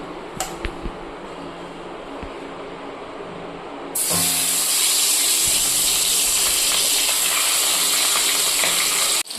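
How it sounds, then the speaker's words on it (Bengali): Tangra fish frying in oil, a loud, steady hiss that bursts in abruptly partway through and holds to the end after a quieter stretch of faint clatter. "মাছে আমার নুন হলুদ মাখানো হয়ে গেছে, এবার আমি ভেজে নেব"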